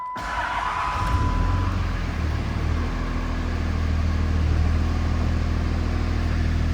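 A Dodge Ram 3500 long bed with the high output 5.9L engine and 6-speed manual fires up abruptly, then settles into a steady, loud, low diesel rumble at idle.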